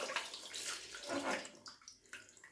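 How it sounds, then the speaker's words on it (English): Cold tap water runs steadily into a basin to rinse shaving lather off after a wet shave, a close, continuous splashing flow with brief gurgles and drips toward the end. "I'll wash it off with a bit of cold water"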